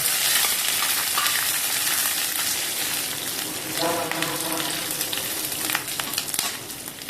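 Lentils and garlic being roasted in a pan for a chutney give a continuous close sizzle with light scraping as they are stirred, louder bursts of crackle coming in the middle and near the end.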